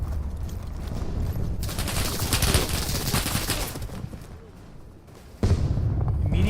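Machine gun bursts rattle through a War Thunder tank battle, dense rapid fire filling most of the stretch, easing off briefly before a loud burst resumes near the end, with game effects blended in.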